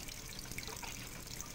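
Water trickles steadily into the eye of a skull sculpture resting on cracked earth, a faint, continuous splashing flow with no voices.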